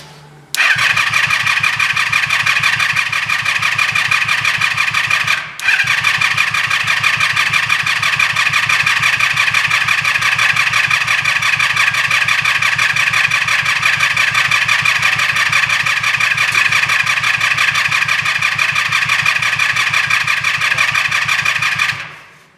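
A Yamaha G1 golf cart's small gas engine cranks, catches and then runs at a loud, steady, rapidly pulsing putter, cutting out for a moment early before resuming and holding until it stops at the end.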